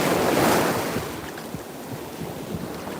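Surf rolling onto a Gulf of Mexico beach, a steady broad wash of breaking waves with wind buffeting the microphone, loudest early then settling into a continuous roar with low thumps.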